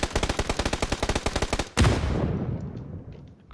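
Automatic gunfire in PUBG. A rapid, even burst of about twenty close, loud shots ends in a heavier blast whose rumble decays over the final second and a half, with no talk.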